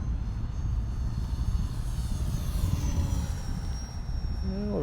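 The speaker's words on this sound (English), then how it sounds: "Let's just go ahead and try some flybys here. Do a full speed flyby." An E-Flite Valiant RC airplane makes a full-speed flyby in stormy wind, its buzzing electric motor droning steadily with a rising and falling whine as it passes, under heavy low wind rumble.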